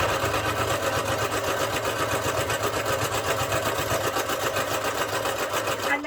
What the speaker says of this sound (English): we're going to start stitching from the top and as much as the machine will let us